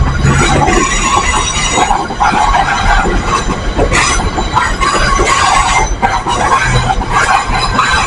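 A model railway train runs along its track, with loud, close wheel clatter, rhythmic clicks and occasional squeals continuing throughout, and no talking.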